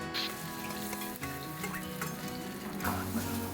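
Minced pork stir-fries in a hot wok, a loud, continuous close sizzle with scraping and tossing sounds of a spatula throughout.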